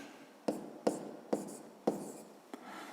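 Numbers written by hand for a fifth-grade math exercise: five distinct pen strokes tap and scratch at a steady pace, close and moderately loud, with no talking.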